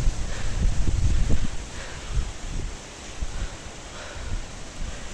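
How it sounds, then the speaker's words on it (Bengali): Gusty storm wind ahead of a Kalbaishakhi nor'wester in Raiganj, blowing in strong low rumbling gusts against the microphone with rustling leaves, loudest early and steady through. "আর এরকম ঝোড়ো হাওয়া।"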